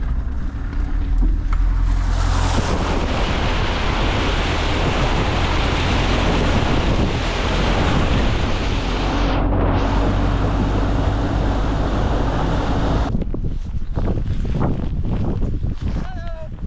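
A vehicle fords a river in Mongolia, a loud continuous rush of splashing water and wind noise filling the whole stretch, close and heavy, easing slightly near the end.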